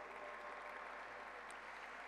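Dense, continuous applause from a large crowd at a Turkish folk music concert, steady and fairly distant, filling the whole stretch without a break.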